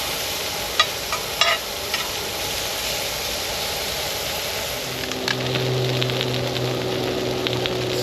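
Baby corn and mushrooms fry in a pan at a camp cook-up in a tent, a steady close sizzle with a few clinks of stirring, the hiss deepening as the pan heats.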